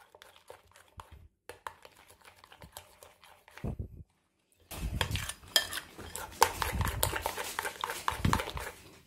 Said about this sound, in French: Je continue comme ça à mélanger jusqu'à avoir un mélange bien